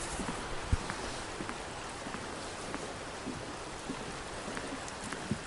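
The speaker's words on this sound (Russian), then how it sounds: "ручеек у нас мощный сейчас стал" A strong spring-fed stream swollen with mountain water flows out from under a stump at a country dacha, a steady broadband rushing with small splashes, moderately close and even, with no talk.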